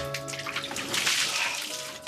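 Water is thrown from a cup during a cold shower, splashing and pouring in a brief rushing burst with dripping, close by.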